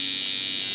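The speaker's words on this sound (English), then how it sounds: "You can hear the machine run. That's a normal sound that your machine should run at." A tattoo machine runs at normal speed, giving a short, steady electric buzz that stays even and close with no talk over it.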